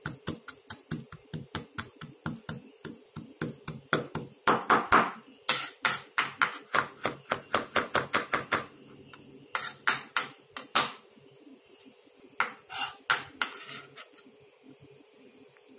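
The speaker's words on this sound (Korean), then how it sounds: "마늘을 다진 후" A knife mincing garlic on a cutting board for a salmon sushi sauce: quick, rhythmic close-up taps in bursts, with short pauses between runs and no talking.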